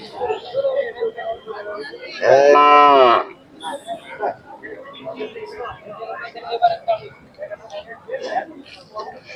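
At a cattle market, a Khillar bull calf or nearby cattle give one loud, drawn-out moo lasting about two seconds, heard amid steady chatter of people talking throughout.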